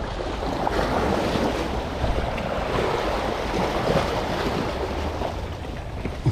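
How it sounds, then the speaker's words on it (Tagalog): Strong ocean waves surging and crashing in a steady, loud roar, close by, mixed with gusty wind buffeting the microphone and no pauses. "Malakas ang alon."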